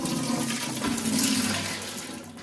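Rock tumbler slurry poured from a tumbler barrel into a strainer, a gushing, splashing rush of watery grit that swells in the middle and tapers off toward the end.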